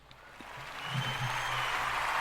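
Applause swells from a few scattered claps into a steady round of clapping from a group, heard at a moderate distance.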